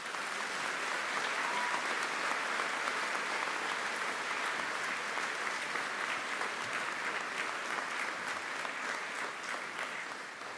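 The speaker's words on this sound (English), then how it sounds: "Let's give them all a round of applause." At a 2020 Baptist college commencement, the audience applauds the graduates with a steady, even wash of many hands clapping. It runs unbroken for over ten seconds at moderate loudness and tapers slightly at the end.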